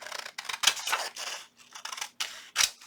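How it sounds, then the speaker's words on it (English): Scissors snip the extra paper border off a junk journal pocket page, a run of close, crisp cuts in uneven bursts with short pauses between them. "I'm going to go ahead and I'm going to trim this extra border off."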